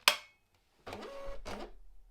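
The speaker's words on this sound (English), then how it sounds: "your printer automatically detects what size label you have put in your machine" Munbyn 941AP thermal label printer calibrating to the loaded label size: a sharp click, a brief pause, then two short whirring feed bursts, close and clear with no talk.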